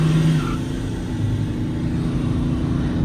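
A Ford Endeavour accelerates hard away from a Scorpio in a drag race, its engine note a loud, steady low roar heard from inside, with a brief rise at the start and continuous road rumble.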